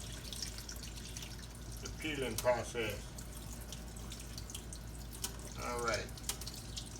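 Kitchen tap running into a sink while hard-boiled eggs are peeled for deviled eggs: a steady, soft stream of water beneath a man's speech, with brief splashes and trickles.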